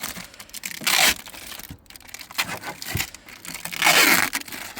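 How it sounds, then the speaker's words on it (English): Protective film peeled by hand off a new Kia Pro Cee'd VR-7 Mk1 tail light, two loud tearing rips about three seconds apart with softer crinkling and crackling of plastic between them, close up. "Should we try and peel it with ASMR with one hand?"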